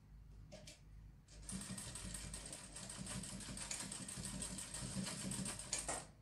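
A sewing machine stitching and back-stitching trousers starts up after a brief pause and runs steadily at a fast, even whir for several seconds, close and clear with no talk.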